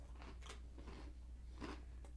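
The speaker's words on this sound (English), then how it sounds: "Dude, that cracker's crunchy." Someone bites into a crunchy cracker, giving several sharp, close crunches in an irregular rhythm over a steady low hum, with no talking.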